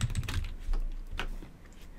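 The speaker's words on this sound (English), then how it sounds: "So we're gonna start typing next step in the process." Rapid clicking keystrokes on a computer keyboard while a Visio flowchart is being drawn, a close, steady run of taps with a brief pause midway and no voices.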